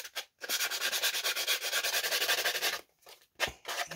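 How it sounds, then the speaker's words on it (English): Sandpaper rubs back and forth over an edge in quick, even strokes for about two and a half seconds. Then come a few separate scrapes close up, with no talking. "I'm going to take the sandpaper and I'm just going to sand the edges"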